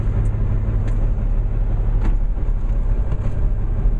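Semi truck tractor engine idling and pulling forward from a fuel pump, a steady low diesel rumble with faint clanks, close and continuous.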